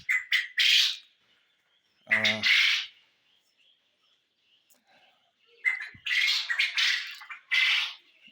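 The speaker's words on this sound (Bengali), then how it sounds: "এই পুরুষ পাখিগুলোকে সবগুলোকে আলাদা করার কারণে এরা একটু ডাকাডাকি বেশি করতেছে" Male quails, separated from the others and kept in a pen, give loud, sharp squawking calls in short clustered bursts with quiet gaps between them, close by.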